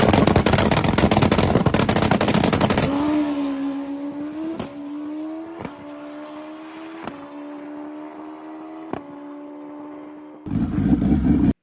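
A drag-racing motorcycle makes a pass: a loud, close engine roar at launch gives way to a rising, receding drone punctuated by sharp gear-shift cracks, then another loud blast near the end.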